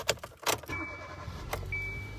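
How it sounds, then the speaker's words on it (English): A 2014 Kia Soul starts with a new blue key: two sharp clicks, a starter burst, then the engine settles into a steady low idle with a faint high whine. "It fires up the engine"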